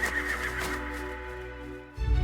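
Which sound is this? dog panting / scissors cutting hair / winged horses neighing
winged horses neighing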